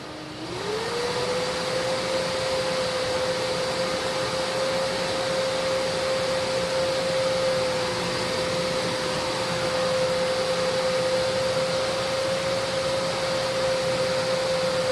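A Bosch Formula Electro Duo vacuum cleaner runs on low speed with all filters removed and the brush roll not spinning. Its steady whine rises briefly at the start, then holds a constant pitch over broadband airflow noise, close and continuous, with no talk.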